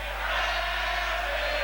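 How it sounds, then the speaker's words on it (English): Outer-terrace crowd at a 1984 Brisbane Rugby League knockout semi-final between Valleys and Redcliffe at Lang Park, a steady, distant roar of massed voices chanting for the Dolphins, continuous and unbroken with no single voice standing out. "The crowd starting to chant for the Dolphins out here on the outer"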